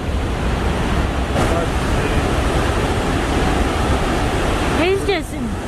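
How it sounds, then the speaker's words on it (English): A large waterfall gushes in a continuous broadband roar, loud and steady, with wind buffeting the microphone and a brief bird-like chirp near the end. "That is a big waterfall."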